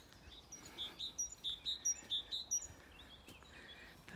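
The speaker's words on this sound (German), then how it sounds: "Da singt uns das Vögelchen was." A small bird singing in a woodland, a series of clear, high chirping notes repeated in a quick rhythm for a few seconds, near and fairly soft, with faint outdoor background.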